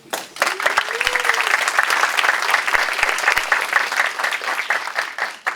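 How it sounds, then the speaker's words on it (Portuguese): Lecture audience claps for a mathematics professor introduced at a talk on math myths and magic, a loud, full burst of applause that rises fast and holds steady, with a brief voice heard early beneath the clapping. "salva de palmas, por favor"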